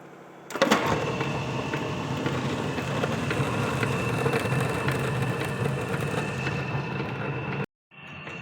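An electric mixie grinder churns rice and urad dal into idli and dosa batter, a loud, steady motor whir with a rough grinding texture that starts abruptly, runs for about seven seconds, then cuts off.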